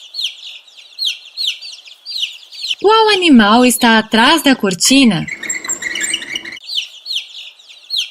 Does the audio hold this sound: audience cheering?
no